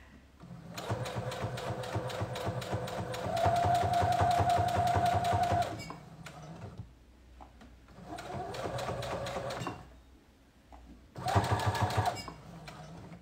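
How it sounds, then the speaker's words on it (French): A sewing machine topstitching a fleece slipper sole runs in three fast whirring bursts, the first long and steady, separated by brief pauses, close and clear with no voices. "Donc la surpiqûre tout du long, c'est pour maintenir la petite moumoute doudou le long sur la semelle."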